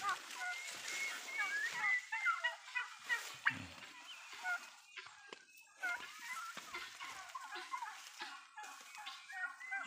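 Hens and other fowl in their laying place, clucking and calling in repeated bursts at close to moderate distance, with a low dull knock partway through and steady chirping throughout.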